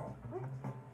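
Dogs give short whimpering yips, a couple of brief whiny calls within about a second, fairly quiet and close.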